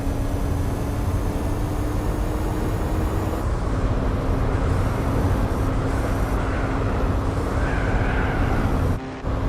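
Race car engine in Gran Turismo 4, a steady loud droning whine held at high revs through the whole span, with a faint tonal hum underneath and a brief dip near the end.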